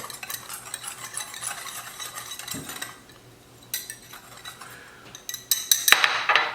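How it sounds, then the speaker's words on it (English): Dry spices (onion powder, garlic powder, black pepper and salt) mixed with a metal whisk in a bowl, giving quick scraping, clinking strokes in uneven bursts, quieter midway and growing louder and busier near the end. "black pepper, salt, and with the help of whisk, just mix them together"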